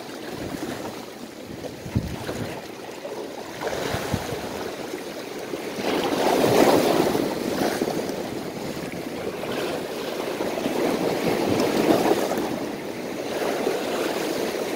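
Strong wind buffets a small boat at sea on a morning outing, roaring steadily into the microphone with waves sloshing underneath, swelling louder midway and staying dense throughout.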